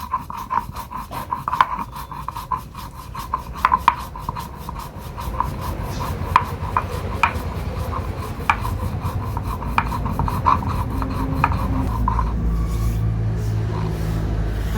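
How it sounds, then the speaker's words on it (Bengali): A roasted spice mix of cumin, coriander and dry chilli is ground in steady, rhythmic rasping strokes, close and continuous for about fifteen seconds without speech. "মশলাটাকে গুঁড়ো করে নিচ্ছি।"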